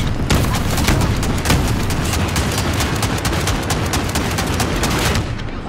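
Heavy gunfire and explosive booms in Call of Duty: Modern Warfare as a tank round strikes a vehicle and blows out a wheel, loud dense bursts and rapid shots packed close together across the whole stretch, with no talk.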